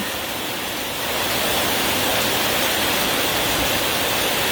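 Flash flood water rushing like a river down a street in Chico, California, a loud, steady roaring wash of broadband noise that swells slightly after the first second and continues unbroken.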